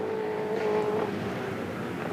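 Supercars race cars racing at Ipswich, engines droning loud and steady with a rising and falling whine as a car passes, continuous throughout.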